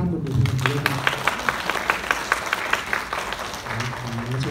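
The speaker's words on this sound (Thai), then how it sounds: "ขอเสียงปรบมือให้กับทั้ง4ท่านบนเวทีนี้ครับ" Rhythmic applause rises from an audience at a public forum on fine dust pollution, with steady claps in the middle section. A voice speaks before and after the clapping.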